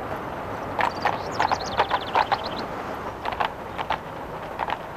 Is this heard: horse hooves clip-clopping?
yes